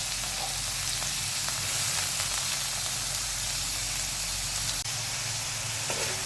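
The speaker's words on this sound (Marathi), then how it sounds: "येथे हा कांदा छान असा परतून घ्यायचा, तांबूस कलर येईपर्यंत परतायचा." Chopped onion frying in hot oil with mustard seeds already popped, for a sprouted moth bean curry, giving a steady, close sizzle with a low rumbling hiss throughout and no talk.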